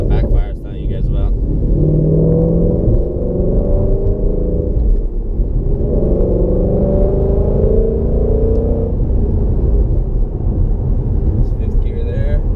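A 2016 Ford Mustang GT with a Corsa Xtreme exhaust drones steadily as it merges onto a freeway, with a constant engine rumble and mild rises in pitch from about 1.5 to 9 seconds, heard from inside the car.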